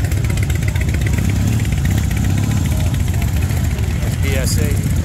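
Motorcycles, British bikes among them, roll out in a parade leaving the Brit Jam 2023 rally in East Haddam, Connecticut: loud, close engine rumble and idling with revs, plus people talking nearby.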